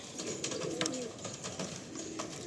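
Pigeons in a loft coo in low, soft repeated calls against a steady background murmur of the flock, with no talk over them.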